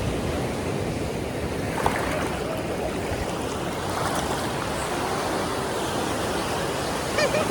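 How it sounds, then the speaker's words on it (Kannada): Ocean waves roll onto the sand at Om Beach in Gokarna, a steady broadband wash of surf with occasional louder swells and light wind, continuous and fairly close throughout. "ಬೀಚ್ ಅಂತೂ ಮಸ್ತ್ ಐತಿ."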